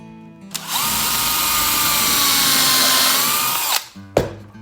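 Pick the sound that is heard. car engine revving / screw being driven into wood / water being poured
screw being driven into wood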